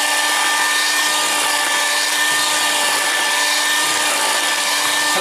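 An electric mixer runs at high speed through steamed sponge cake batter, a loud continuous whine with a steady hum that holds unbroken from start to finish, no voices.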